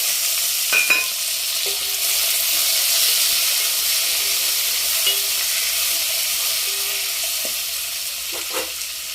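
Raw plantain slices fry in a pan with a steady, close sizzle that runs the whole time, broken by a few light stirring clinks and scrapes.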